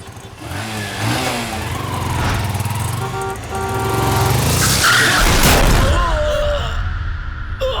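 A car's engine revs and its tires screech in a skid on a busy road, with impact noise and scuffling around the moment a bike rider is struck; a voice is briefly heard.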